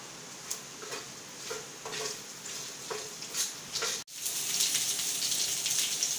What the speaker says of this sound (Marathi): खडे मसाले बारीक आचेवर मी छान भाजून घेतलेत